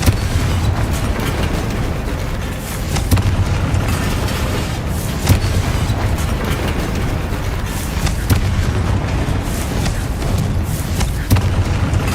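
Confringo blasting spell explosions from Hogwarts Legacy thump and boom repeatedly over a dense, continuous rumble of combat noise, with sharp blasts recurring every few seconds.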